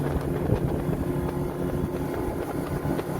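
A 2019 Smoker Craft Osprey 162 fishing boat's engine drones steadily on the water, a constant low hum with wind rumble across the microphone and no voices.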